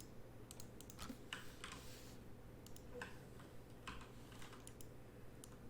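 Keystrokes on a computer keyboard at a desktop scale ticketing station for scrap metal recycling, soft clustered taps in quick bursts and pauses, fairly close, over a steady low room hum.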